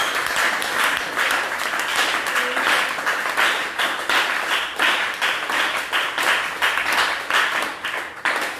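A church congregation applauding, a steady dense burst of clapping from many hands that fills the room and holds for several seconds.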